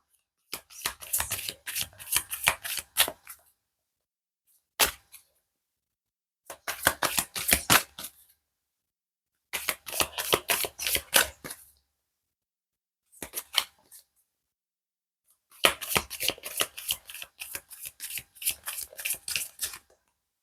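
Tarot cards riffled and shuffled by hand in repeated bursts of rapid fluttering flicks, close and crisp, separated by short pauses, with no talk.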